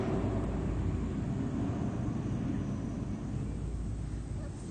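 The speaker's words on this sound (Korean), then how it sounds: "어 비행기입니다, 비행기, 비행기." An airplane flies over, producing a continuous broad, low rumble that stays fairly steady and eases off slightly toward the end, with no voices.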